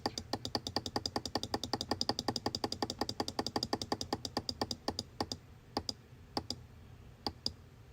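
Mouse clicks advancing frames one at a time in Adobe Premiere: a rapid, steady run of about thirty sharp, close clicks, then a few slower, scattered clicks trailing off over a quiet hum.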